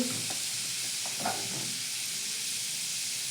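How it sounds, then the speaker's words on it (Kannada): Garlic and curry leaves splutter in hot oil for tempering, giving a steady close hiss of frying with a few crackling pops early on. "ಅದು ಸಿಡಿದು ಬಿಡ್ತೈತಿ ಬೆಳ್ಳುಳ್ಳಿ ಕರಿಬೇವು"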